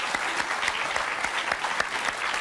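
A studio audience at a French game show of wacky contests claps steadily, a dense, moderately loud patter of many hands with a few sharper individual claps standing out, no voices over it.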